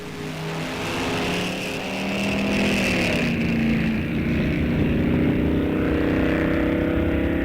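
A junior dragster at a test-and-tune drag strip event, its small engine droning steadily and rising in pitch as it pulls away, loud and continuous without pause.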